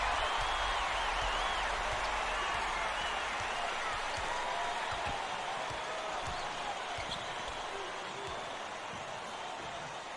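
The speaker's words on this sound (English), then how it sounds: "Fire it up, the chant from the crowd" Crowd noise in a college basketball video game, Wisconsin vs Baylor: a continuous arena roar with scattered ball bounces and sneaker thuds underneath, while a commentator talks over it throughout.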